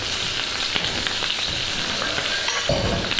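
Lamb with the fat on sizzles and spits in a hot frying pan, a steady crackling fry with occasional louder pops, close up and without any talking.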